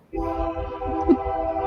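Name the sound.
Union Pacific train horn passing through town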